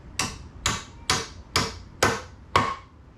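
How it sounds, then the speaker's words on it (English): A hammer drives nails while a bathroom wall is framed, six sharp, evenly spaced strikes ringing out up close and loud, about half a second apart, with no talk. "So when you're swinging this hammer, make sure to hit the nail square on the head."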